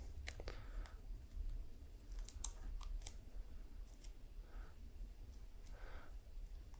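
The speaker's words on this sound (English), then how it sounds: "you can go ahead and start to unravel the tape." Tape being gently unwound from an Aramid rope gives soft crinkling, snipping and clicking sounds, with a few sharper ticks, quiet and close in an otherwise still room.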